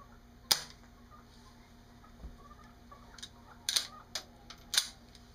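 A rifle fitted with a .22 conversion kit for the .223 fires several sharp, crisp shots at a distance. One isolated report comes first, and a tight cluster of three or four cracks follows a few seconds later, with quiet gaps between them.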